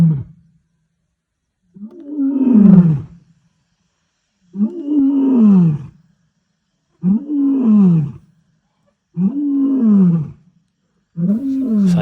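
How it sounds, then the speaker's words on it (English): Male lions roaring repeatedly, five loud, deep rumbling roars spaced a couple of seconds apart, close by and with no other sound in between. "The Ndzhenga males settled down not too far away and also continued to roar."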